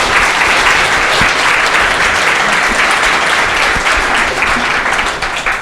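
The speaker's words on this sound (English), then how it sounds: "can we give our panelists one more round of applause?" Sustained audience applause rings out for a panel of speakers at a gaming conference session, dense steady clapping from a large room that holds at full strength throughout with no voices above it.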